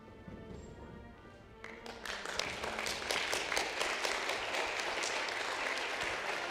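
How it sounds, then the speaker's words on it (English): An auditorium audience greets the speakers at a university contest with a swell of applause that starts partway in, then settles into a dense, sustained wash of clapping that fills the hall to the end. "Please welcome them with a big round of applause."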